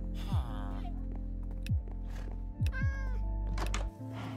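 Several cat meows from a Minecraft video game, short rising-falling calls spaced across the clip over a steady low game hum, with a few soft thunks in between.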